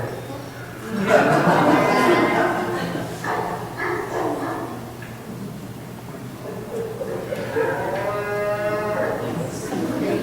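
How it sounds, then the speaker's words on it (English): Cattle being herded down out of the mountains in Spain in late September, with repeated moos and lowing that rise and fall at moderate distance. Voices talk throughout, and a dog may be barking. "It could be bringing these cattle down out of the mountains."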